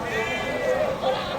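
Goats bleating at a busy open-air goat market in Athiyur, Kallakurichi district, Tamil Nadu. Several wavering bleats overlap close by over crowd noise and talk.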